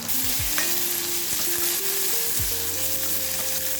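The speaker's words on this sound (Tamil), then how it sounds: "ஒரு கடாயில் நல்லெண்ணெய் ஊற்றிட்டு கடுகு போட்டு பொரிஞ்சதும் ஜீரகம், மிளகு, கருவேப்பிலை, வரமிளகாய், சின்ன வெங்காயம்" Mustard seeds, cumin, pepper, curry leaves, dried red chillies and small shallots fry in sesame oil in a pan, a continuous close crackling sizzle with stirring scrapes and a few faint tonal whines underneath.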